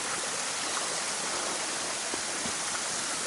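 Mountaineer Falls on the Appalachian Trail, a waterfall about 75 feet high, pours in a steady, even rush of falling water heard alone at moderate distance.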